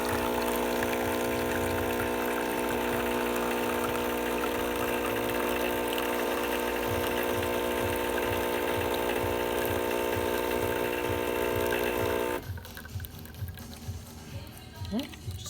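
A DeLonghi Magnifica espresso machine, freshly serviced for a stuck infuser, pulls a test shot: a steady, loud pump drone with rapid pulsing runs for about twelve seconds, then cuts to quieter dripping and trickling.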